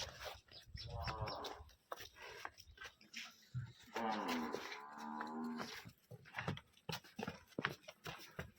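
A water buffalo gives two deep, drawn-out moos, one short and one longer, close by, with people talking in between.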